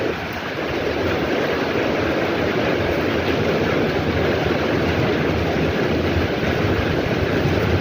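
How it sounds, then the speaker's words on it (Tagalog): A loud, steady roar of typhoon wind and driving rain in Macau, constant and unbroken throughout with no voices. "malakas na rin ang hangin"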